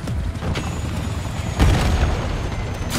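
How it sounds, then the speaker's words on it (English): A frag grenade in Call of Duty explodes in a low rumbling boom about halfway through, set within dense, loud battle noise of distant blasts and gunfire, with no voices heard. "Tossing frag."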